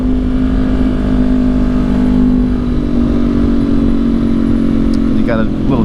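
A 2019 Honda CB500X motorcycle with a passenger rolls through twisty Oregon roads in third gear, its engine droning loud and steady with wind noise while a rider talks over it.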